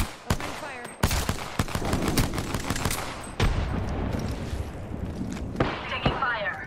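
Gunfire in the video game Apex Legends: dense bursts of rapid automatic shots and sharp cracks, loud and close, with scattered booms, while voices talk over the action.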